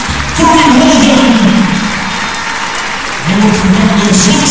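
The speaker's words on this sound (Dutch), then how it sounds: "Beste vrienden, we geven toch een groot applaus voor uw helden." Loud, sustained applause and cheering from a crowd at a basketball match between Liège and Oostende, swelling for a few seconds, dipping briefly, then rising again.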